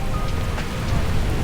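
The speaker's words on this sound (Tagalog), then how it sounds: "Sobrang lakas ng ulan dito. Mahangin pa." Heavy rain pours steadily, driven by gusting wind at a resort in Dingalan, a dense, close, unbroken roar of drops hitting surfaces with no voices over it.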